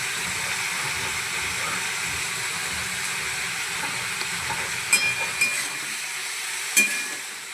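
Cauliflower and potatoes fry with salt and turmeric in a pan, giving a steady, fairly loud sizzle throughout, with a few sharp clinks of stirring near the end.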